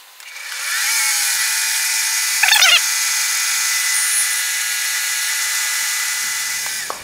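A milling machine drives a long half-inch end mill down into a workpiece, a steady high-pitched cutting whine that holds for several seconds, with a brief louder chatter midway, while building a spherical ball turner kit.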